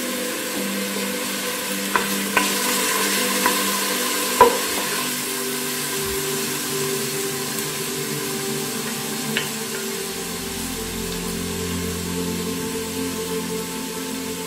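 Green chillies stirred into a hot pan for a meat and potato curry, giving a steady sizzle with occasional scraping clicks of the spoon that last throughout.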